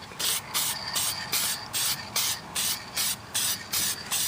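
Aerosol spray paint applied in light coats to wooden parts of a 1961 Seeburg AY100U jukebox outdoors, about nine short hissing bursts in a steady rhythm with brief gaps, close and clear.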